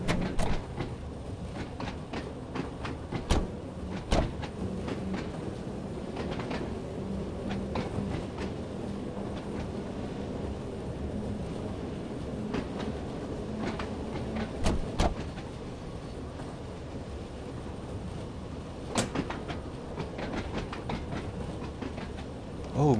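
An old metro train runs steadily on the Isle of Wight heritage railway in Train Sim World 2, with a continuous rumble and sharp periodic clicks and clacks from wheels over rail joints, unbroken throughout.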